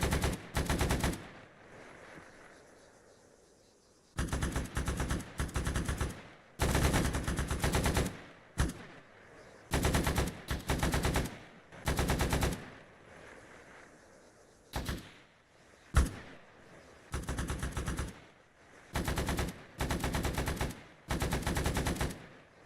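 Machine gun fire in the video game Arma 3, two gunners trading long and short automatic bursts separated by brief pauses, sharp and fairly close, with no talk.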